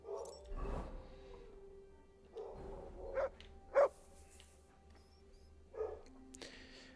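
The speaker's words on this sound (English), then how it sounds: "Sorry if you can hear my dog yelling." A small excitable dog gives a few short, sharp barks in the background of an indoor gaming stream, the bursts spaced irregularly and fairly faint under a low room hum.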